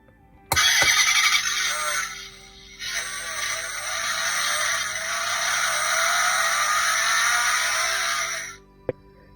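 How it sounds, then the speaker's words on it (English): A Bumblebee Chevrolet Camaro 1:32 diecast toy car plays a tinny electronic engine sound effect, a loud steady roar that revs up after a click, dips briefly, then holds for several seconds before cutting off with a click. "That is the sound of the engine being activated."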